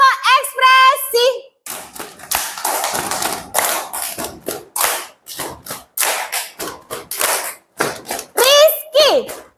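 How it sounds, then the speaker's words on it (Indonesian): Children in a primary school class play a clapping game, with sharp rhythmic hand claps and taps in quick bursts alternating with children's voices and a teacher speaking. "Oke ya, mulai tepuk ekspresi."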